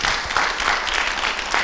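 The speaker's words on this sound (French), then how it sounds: "Est-ce qu'on peut l'applaudir?" An audience applauds a child at a Christmas spelling contest, a moderately loud, dense burst of clapping hands that carries on evenly for a couple of seconds with no speech.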